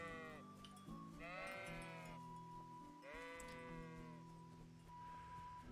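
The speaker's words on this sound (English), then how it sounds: "Oh, sheep! Sheep! Sheep! Sheep!" Sheep bleat in the medieval video game Kingdom Come: Deliverance, with several long, wavering calls, some overlapping, over a steady low background hum.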